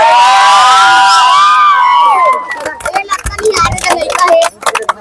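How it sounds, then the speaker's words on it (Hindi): Crowd at a junior cricket tournament grand finale prize ceremony in Gopalpur erupts in cheering, whoops and children's shouts for the winning team, loud and near at first, then turning into scattered claps and crowd chatter. "जोरदार तालियां हो जाए।"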